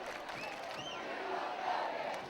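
Football fans in a high school stadium crowd, one visiting section chanting at a rival fan in the home cheering section, a loud continuous roar of voices with rising shouts near the end.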